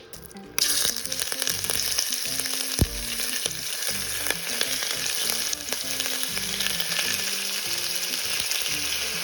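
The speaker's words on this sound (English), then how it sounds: "to a Dutch oven or large pan, we're going to add some olive oil. Right now we're going to add our pork pieces." Pork pieces sizzle and fry loudly in olive oil in a Dutch oven, starting with a sudden burst as the meat hits the hot oil, then a steady crackle with occasional stirring clatter, close up.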